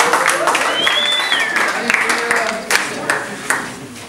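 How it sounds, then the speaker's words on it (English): Audience clapping and cheering at a magazine issue release party, a lively crowd with scattered claps and whoops mixed with chatter and background noise. "Applause mandatory."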